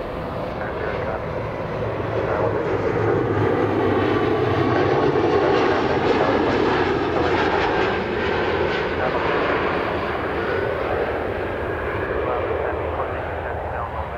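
A Boeing 747 jet lands at Chicago O'Hare with a loud, continuous engine roar that swells and holds steady, while radio talk is heard over it.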